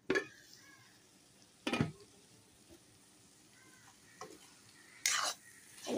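Arum leaves, arum root and potato stirred in a pot with turmeric, a few sharp scraping clatters of a ladle against the pot spaced apart over quiet, faint simmering, close by with no speech.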